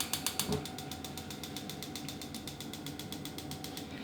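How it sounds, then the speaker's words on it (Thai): A rapid series of clicks from a gas stove igniter ratchet, loud at first, then a steady mechanical ticking that continues to the end. "แล้วก่อนอื่นก็เปิดเตาได้เลยครับ"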